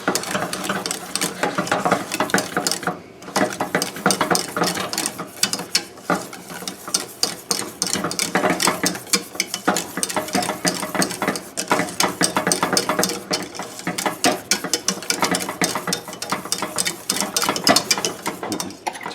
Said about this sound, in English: Just keep whisking it until that cheese is melted and incorporated throughout the sauce.